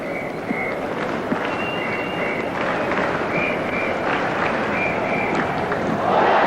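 A large cricket crowd at a 1993 Australia versus South Africa match roars steadily after a wicket falls, with a dense, sustained wash of cheering, whistles and clapping that swells louder near the end.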